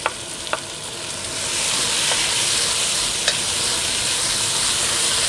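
Onion tipped into a hot pan with leftover roast lamb, followed by a few light knocks, then a loud, steady sizzle that swells and holds as it fries.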